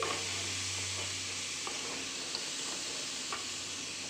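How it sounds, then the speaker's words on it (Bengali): Spices and masala are sautéed in a pan for a prawn and banana-stem curry, giving a steady close sizzle and hiss with a few faint clicks of stirring. "এবার এটাকে ভালো করে কষিয়ে নিচ্ছি"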